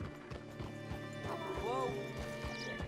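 Horse hooves clip-clop at a steady walking rhythm in the Red Dead Redemption 2 video game, with a horse whinnying partway through and a voice speaking over the hoofbeats.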